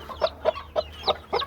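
Small chicks and their mother hen, ornamental chickens, give five quick, close clucking peeps in an uneven rhythm over faint background hum.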